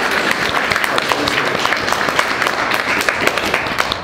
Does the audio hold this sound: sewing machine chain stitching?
no